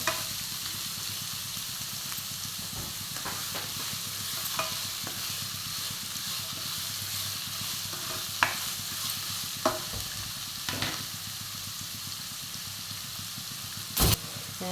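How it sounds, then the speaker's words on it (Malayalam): Sliced onions sauté in a pan for chicken mappas, giving a constant close sizzle with occasional stirring scrapes and a sharp clatter near the end. "സവാള ഒന്ന് വാടി വരാൻ വേണ്ടി നമുക്ക് കുറച്ച് ഉപ്പിട്ട് ചേർത്തെടുക്കാം നന്നായൊന്ന് വഴറ്റിയെടുക്കണം"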